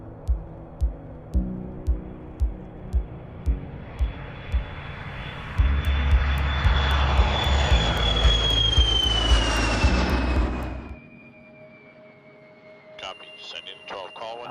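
A fixed-wing aircraft from Mojave, California flies over Spaceport America, a steady engine roar swelling loud and near with a falling whine as it passes, then fading, preceded by rhythmic clicking and followed by faint radio chatter.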